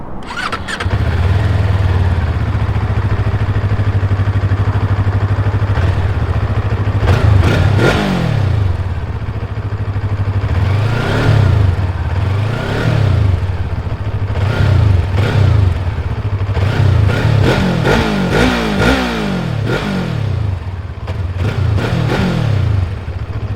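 A 2023 VOGE 350 AC motorcycle engine idles with a steady low rumble, broken by repeated sharp throttle blips that rise and fall in pitch, heard up close and loud with no talking.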